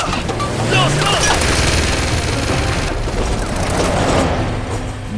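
Rapid bursts of gunfire in Uncharted: Among Thieves on PS4 crackle continuously with booms and mechanical rumble, dense and loud throughout, with a voice briefly audible underneath.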